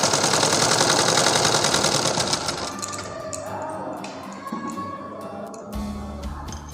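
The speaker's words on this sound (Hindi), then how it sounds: "गले पे सिलाई कर लेनी है।" A sewing machine stitches the folded neck binding strip onto a simple blouse, its motor running in a steady, fast rapid-fire whir that slows and softens midway, with a few clicks near the end, close up and with no voices.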